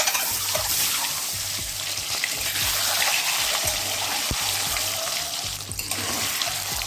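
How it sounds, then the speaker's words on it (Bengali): Eggs fry in hot mustard oil in a kadai, giving a continuous bright sizzle with soft scraping and faint knocks underneath, steady and close. "এই ডিমটাকে একটু ভেজে নিচ্ছি"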